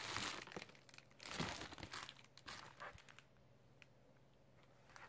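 Paper packaging covered in stickers crinkles and tears as a parcel is opened, close and busy with bursts of crumpling that thin out toward the end, no talk.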